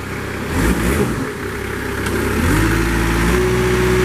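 A 2005 Moffett M5500 truck-mounted forklift with a 12-foot mast has its engine cranked and started. Mechanical rumble builds into a steady, close, mid-pitched idle hum that carries on alone.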